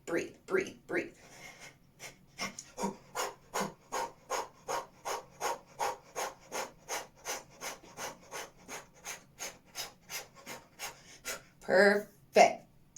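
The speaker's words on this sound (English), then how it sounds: "And breathe, breathe, breathe, breathe, breathe." Rapid rhythmic breathing exercise, about two dozen quick, even, forceful breaths in steady succession close to the listener, ending with a couple of louder breaths.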